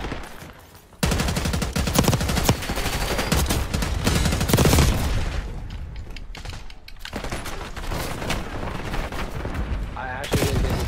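Rapid automatic fire from a SWAT 5.56 rifle in Black Ops 6, with dense, loud bursts running nearly the whole time and brief breaks, under game ambience.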